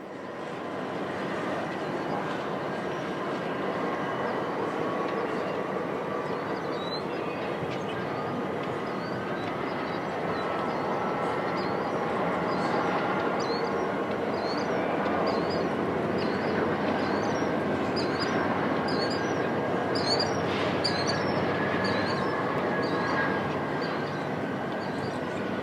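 Union Pacific freight cars roll steadily through a hump classification yard, giving a continuous distant rumble with faint high squeals from wheels and retarders throughout.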